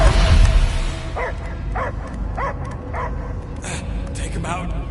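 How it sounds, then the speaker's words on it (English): A dog barks repeatedly in the Guardians of the Galaxy video game, a series of short evenly spaced barks following a loud rumbling burst, with game sounds underneath. "I hear only barking"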